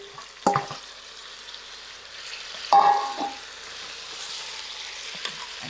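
Marinated mutton sizzles in a pressure cooker for curry, two sharp clattering stirs landing over a soft steady frying hiss, close by with no talk.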